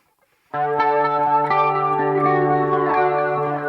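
Electric guitar enters after a short silence, sustained chords ringing with a wash of delay and modulation effects, loud and steady with no talking.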